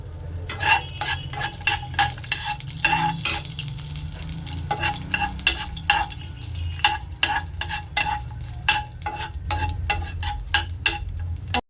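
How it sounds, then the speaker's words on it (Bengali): Cashews frying in hot oil over a low flame while a spoon stirs them, giving a soft continuous sizzle broken by frequent sharp scraping clicks of the utensil against the pan. "তেলটা গরম হলে প্রথমে কাজুটা ভেজে নেব, তারপর কিশমিশটা ভেজে নেব।"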